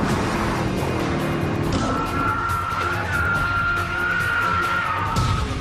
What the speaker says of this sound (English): For such a big, comfortable car, it's staggeringly easy to drive really fast.